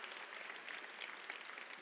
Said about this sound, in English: let's just give a round of applause for Stephanie and Karla